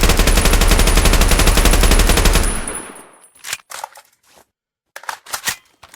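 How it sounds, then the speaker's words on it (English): An AK-12 rifle in a Minecraft gun mod fires a rapid, loud automatic burst for over two seconds, then falls to a few scattered, quieter mechanical clicks and clacks. "Let's show y'all the AK-12. So, this is used in modern day."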